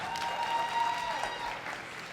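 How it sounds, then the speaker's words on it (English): Brief, steady applause from the audience at an 8th grade graduation in the River Rouge School District, a moderate even patter of many hands clapping with no voices. "Let's give Tayshana another round of applause."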